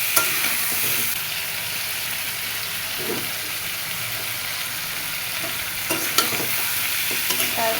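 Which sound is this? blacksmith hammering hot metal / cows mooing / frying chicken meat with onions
frying chicken meat with onions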